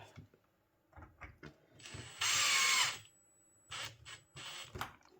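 A power drill drives a self-tapping screw into a CNC slider on a Kingsong S22 electric unicycle, whining loudly for about a second between quieter clicks and knocks of handling the parts.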